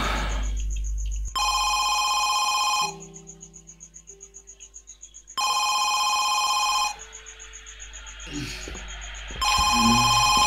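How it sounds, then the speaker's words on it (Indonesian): A telephone bell rings in the horror video game Home Sweet Home, loud, bright bursts repeating in two-second rings separated by short pauses, with faint game ambience between them. "Eh, telepon"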